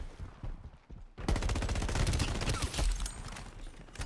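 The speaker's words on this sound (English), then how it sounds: "This little shotgun is awesome." Rapid gunfire from a shotgun in the video game Shatterline erupts after a quiet second, a dense fusillade of close, loud blasts continuing to the end.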